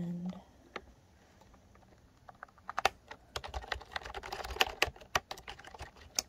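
Quick, quiet keystrokes on a computer keyboard in a calm shop setting, coming in scattered bursts that grow busier toward the end, with a soft voice faintly present underneath.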